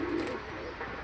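A black pigeon gives a single short, low coo, close by and fairly quiet, with faint voices around it.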